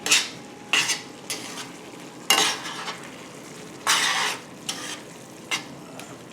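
Onions dropped into a hot pan for linguine with mussels in white wine sauce, giving bursts of loud sizzling and stirring scrapes that swell and fade several times, close up with no talking.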